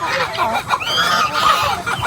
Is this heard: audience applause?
no